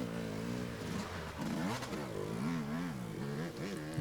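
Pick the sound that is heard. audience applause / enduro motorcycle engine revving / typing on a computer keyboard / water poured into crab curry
enduro motorcycle engine revving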